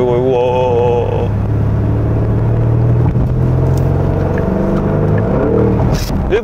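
Porsche Panamera GTS, third generation, driven in sport mode: a steady low engine drone with a pitch that rises and falls, plus continuous road and cabin rumble heard from inside the car, loud and unbroken.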